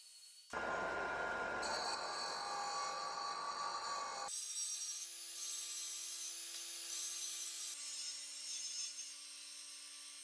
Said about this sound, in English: I'm just gonna go right to it and chop them up with my angle grinder here